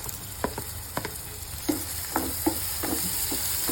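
Tomato and curry leaves frying with onions in a pan for gongura chicken, giving a steady close sizzle broken by a few sharper pops and stirring scrapes.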